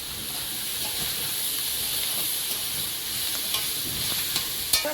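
Shrimp frying in a hot pan, a continuous bright sizzle and hiss with occasional stirring scrapes, close and fairly loud with no voices.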